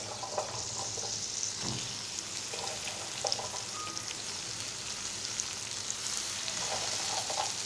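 Jackfruit pieces frying in a pan with onion and chili, Malvani style, with a continuous soft sizzle and occasional stirring scrapes and clicks, close and fairly quiet, with no talk.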